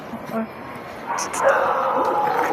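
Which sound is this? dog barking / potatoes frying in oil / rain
dog barking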